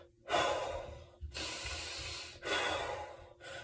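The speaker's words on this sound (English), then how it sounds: "Breathing into your stomach and out, right? In and out through your stomach." Deep belly breathing demonstrated up close: three long, airy breaths, each a loud hissing rush of air through the mouth and nose, separated by brief silent pauses.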